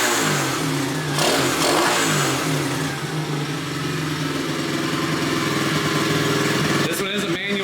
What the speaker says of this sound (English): Should we start it for him? Yeah, go ahead. This one's got a nice kickstart.